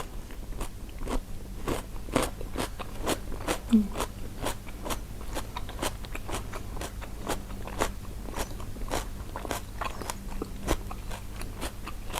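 Fried pork intestine with garlic bitten and chewed up close, a steady run of sharp crunches repeating roughly every half second, loud against a quiet background.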